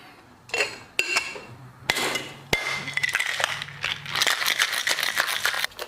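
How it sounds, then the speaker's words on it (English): A cocktail shaker full of ice cubes rattles close by, first in a few sharp clanks, then in a steady, busy shaking that runs almost to the end. "And then we're going to shake it up."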